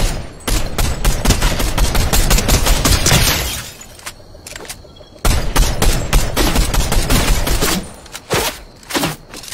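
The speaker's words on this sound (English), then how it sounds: "I'm getting shot from multiple spots right now" Heavy video game gunfire in dense bursts and sustained automatic volleys, loud and continuous for several seconds, breaking off briefly before more rapid shots resume, with no talk.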